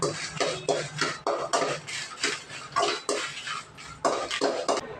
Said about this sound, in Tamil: ஒரு வடச்சட்டி வச்சு ஒரு பதினஞ்சு மிளகா போட்டு மிளகா நல்லா வறு வறுப்படுற அளவுக்கு வறுத்து எடுத்துக்கலாம்